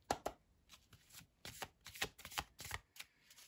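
Tarot cards are shuffled and drawn by hand for a crystal-themed reading, with a quick run of soft riffling flaps and slaps up close in a quiet room and brief pauses between bursts.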